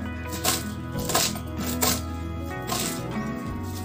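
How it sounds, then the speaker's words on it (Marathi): Fenugreek (methi) leaves chopped with a knife on a board in a home kitchen, quick rhythmic cuts coming close and fairly loud over a steady background hum, with no one talking. "अशी थोडी थोडी घेऊन आपण या पद्धतीने चिरून घेऊ"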